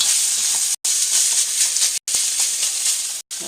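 Ingredients hiss and sizzle loudly in a hot pan while fried rice is cooked, a steady bright sizzle broken by three brief silent gaps.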